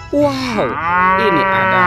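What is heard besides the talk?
toy cow mooing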